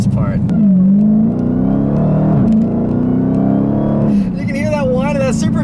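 A 2015 Dodge Challenger Hellcat's supercharger whines over its deep exhaust, a steady, loud drone that rises and falls in pitch as the car accelerates, with a voice talking over it.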